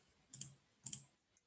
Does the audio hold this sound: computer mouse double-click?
yes